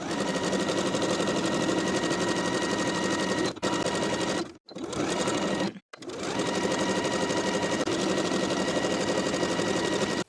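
A sewing machine edge stitches along the raw edge of a hem in long runs of fast, even whirring, close and loud, pausing briefly twice in the middle.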